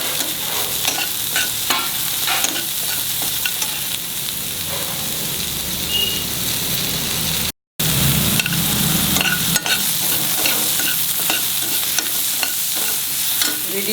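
A mixture with finely chopped coriander is stirred as it fries in a pan, giving a steady, loud sizzle with scraping stir strokes throughout and one brief dropout midway.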